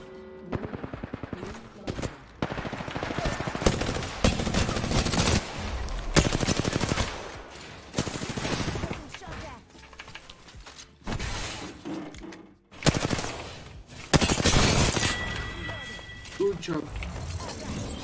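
An online shooter game fills the stretch with repeated bursts of rapid gunfire and sharp shattering impacts, loud and close, with a player talking over it.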